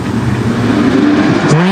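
Sprint cars accelerating off the green flag at a dirt track race start during an ASCS National heat race, a loud, dense engine roar rising in pitch as the field pulls away.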